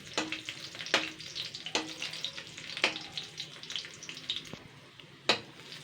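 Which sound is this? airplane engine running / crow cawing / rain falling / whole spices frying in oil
whole spices frying in oil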